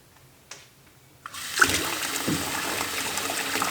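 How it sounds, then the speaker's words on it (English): Water from a tub faucet gushes steadily onto a fizzing homemade bath bomb, a broad rushing splash that starts abruptly after a few faint knocks and keeps running loud and close. "let's look at if you were to turn on, say, your tub faucet."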